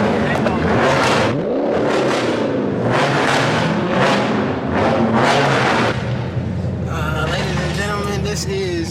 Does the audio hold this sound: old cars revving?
yes